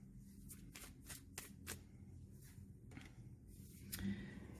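A deck of angel message cards is shuffled close by, quick papery riffles and soft slaps repeating in bursts over a quiet room.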